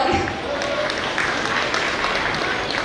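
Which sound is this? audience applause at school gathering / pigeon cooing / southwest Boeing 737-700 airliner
audience applause at school gathering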